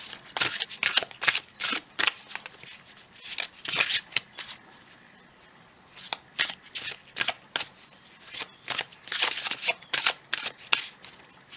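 Oracle of Metamorphosis cards being shuffled up close, two sustained runs of crisp, rhythmic card slaps and riffles separated by a brief pause.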